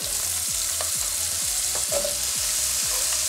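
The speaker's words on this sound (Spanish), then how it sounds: "Y lo primero que voy a hacer es agregar la cebolla." Chopped onion sizzling steadily in melted butter and oil, with broad, continuous frying hiss and a few faint utensil scrapes, close and alone.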